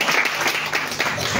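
A congregation at a night prayer vigil breaks into steady, dense applause, a continuous wash of many hands clapping at close range.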